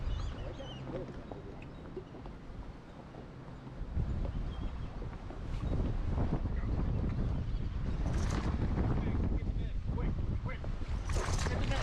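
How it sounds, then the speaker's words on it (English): Wind blows hard outdoors on a cloudy day at the water during a fishing trip, a broad rushing roar buffeting the microphone, quieter at first and then swelling into sustained heavy gusts. "you can just hear that wind"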